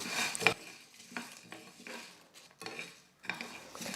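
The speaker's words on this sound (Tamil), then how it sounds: "இப்போ இது எல்லாத்தையும் ஸ்டவ்வை லோ ஃப்ளேமில் வச்சுக்கிட்டே வறுத்துக்கலாம்." Whole spices and torn bay leaves dry roasting in a pan on a low flame for chicken biryani, heard as close scraping and stirring with soft rattles and utensil clinks coming in bursts between quiet pauses.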